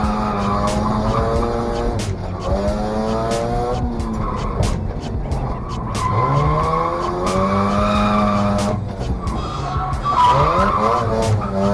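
A car drifts around a speedway track, its tires squealing in long, wavering howls over a loud, revving engine, with several sharp clicks and no talking.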